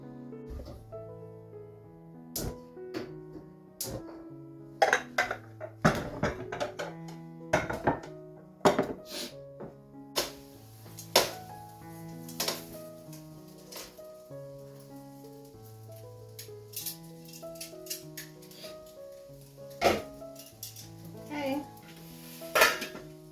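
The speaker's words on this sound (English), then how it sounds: "gonna put a lid on the pot for just a bit" Metal cookware clatters near a pot of shrimp warming for a stir-fry with spaghetti, with scattered sharp knocks and clinks and a few ringing metallic tones as a lid goes on, then quiet between hits.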